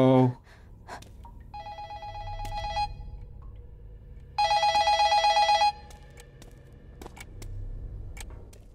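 A telephone rings in the Incantation horror video game, set in a Chinese cult village: two clear bursts of a bright trilling bell, the second louder, over a low ambient rumble.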